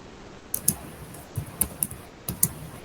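Keys on a computer keyboard are tapped in short, irregular clusters of crisp clicks, close to the microphone with a faint room hum underneath.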